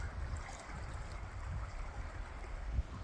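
Water flowing at Long Pool on the upper Deerfield River near Fife Dam, a quiet steady rushing with soft low burbles, heard alone with no voices.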